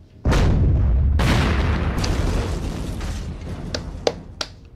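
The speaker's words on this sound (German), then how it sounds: "dieses Wumms hat sich sehr wie ein Schlachtschiff angehört" A loud, deep explosion boom like a battleship gun goes off in the WWII strategy video game Panzer Tactics HD, with a long rumbling decay followed by a few sharp, smaller pops and clicks.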